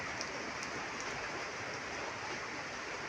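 Steady rain falls nearby in a soft, even hiss with no breaks, fairly quiet and without voices across the few seconds.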